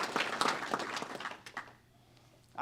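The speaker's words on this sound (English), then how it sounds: "let's give them a round of applause" An audience at a National Crime Victims' Rights Week luncheon applauds, a moderate patter of clapping that fades out after about a second and a half, leaving quiet room tone.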